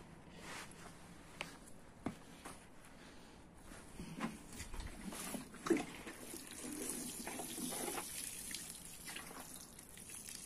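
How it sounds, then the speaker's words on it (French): Water poured onto newly planted artichokes in a garden, a faint splashing trickle that grows steadier midway, with soft drips and a few handling knocks, quiet and close. "il n'y a plus qu'à arroser."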